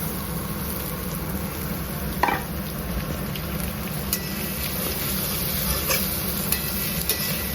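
Chopped onion goes into a little hot oil with whole cumin and sizzles steadily while being stirred, a close, even frying hiss with soft scraping under it and no talk.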